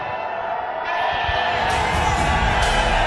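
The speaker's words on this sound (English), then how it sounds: "all the Zalmi fans over here love you. They've been cheering for you." Cricket stadium crowd of Zalmi fans cheering and whooping, a dense, continuous roar that swells louder after the first second and stays steady and near.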